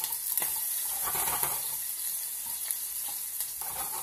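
Shrimp with garlic and cherry tomatoes sizzling in a pan, a steady hiss broken by a few sharp pops and spatters, moderately loud and without speech.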